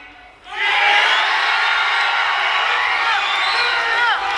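A Texas boxing crowd at the Jake Paul vs Nate Diaz fight erupts into loud, sustained cheering and whooping after a brief quiet moment, a dense roar of many voices with scattered shouts.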